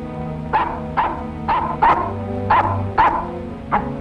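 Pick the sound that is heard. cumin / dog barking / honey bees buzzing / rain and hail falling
dog barking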